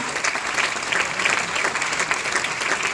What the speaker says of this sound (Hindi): मैं चाहूंगा एक बार जोरदार तालियों के साथ उनको यहां पर बुलाया जाए।